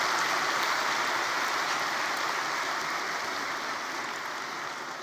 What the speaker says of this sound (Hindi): आप सभी ताली बजा के अभिवादन करें